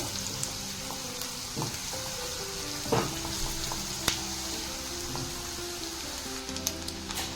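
Onion frying in ghee for a chicken ghee roast, a soft steady sizzle with occasional stirring scrapes and small pops, fairly quiet and close with no talking.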